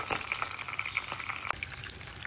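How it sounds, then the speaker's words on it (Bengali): A catla fish head fries in hot oil with a continuous, moderately faint sizzle and spatter, and a few sharper pops stand out over the bubbling hiss. "তেল গরম হয়ে গেছে, আগে মাথাটা ভাজি।"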